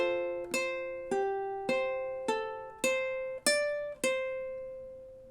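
A ukulele plays measure 13 of a song, seven clear plucked chords struck at an even pace, each ringing out and decaying before the next.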